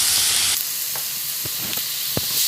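Chili powder, coriander powder, turmeric and onions fry in oil in a pan, giving a steady close sizzle with occasional soft stirring clicks and scrapes, and no talk.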